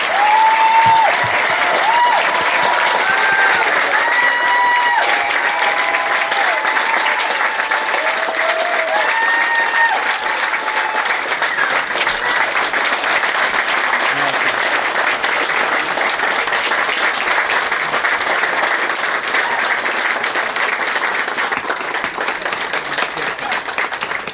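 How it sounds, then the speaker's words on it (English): An audience at an outdoor dedication ceremony for the Phoenixville Phoenix Wheel, honoring Barbara Cohen, applauds loudly and continuously, dense clapping sustained throughout with a few faint voices and tones drifting over it. "Could we all have a big round of applause for Barabara Cohen?"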